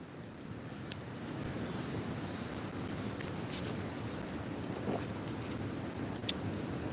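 Wind blowing outdoors at a campfire cookout: a continuous broad rushing roar with microphone buffeting, steady and close throughout, with a few faint clicks and knocks and no talking.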